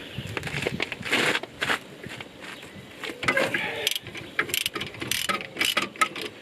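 Ratchet wrench turning a 16mm socket on a tie rod nut of a Mini R50/R52/R53, giving quick bursts of close, sharp metallic clicks in irregular runs, with no talk.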